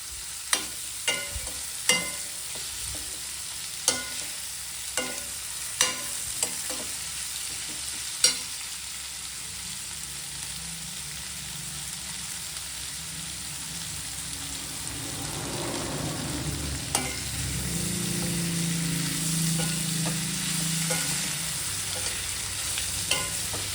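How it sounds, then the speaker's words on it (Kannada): Onions and garlic frying in oil toward golden brown for a spicy chicken gravy: a soft, even sizzle with a few sharp spoon taps early on, the frying swelling louder and busier near the end, close up with no talking. "ಈರುಳ್ಳಿ ಚೆನ್ನಾಗಿ ಫ್ರೈ ಆಗಲಿ, ಗೋಲ್ಡನ್ ಬ್ರೌನ್ ಆಗೋವರೆಗೂ ಫ್ರೈ ಆಗಲಿ"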